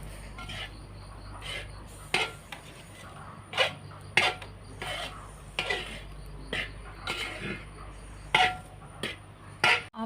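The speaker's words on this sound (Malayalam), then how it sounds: "നാടൻ അവലോസ് പൊടി അടുപ്പിൽ വെച്ചിട്ട് ഉണ്ടാക്കിക്കൊണ്ടിരിക്കുകയാണ്" Avalos podi, a rice flour, roasts in a pan over a wood-fired stove. A spatula scrapes and knocks against the pan in irregular strokes, each clink and scrape sharp and close against a quiet, steady background.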